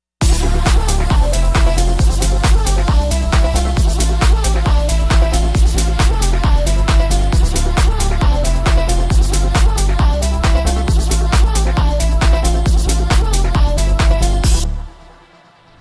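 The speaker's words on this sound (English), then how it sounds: "I took the vocals and I chopped them all up" A loud house beat with short, rhythmically chopped vocal fragments repeating in a tight pattern over pounding kicks, stopping abruptly near the end.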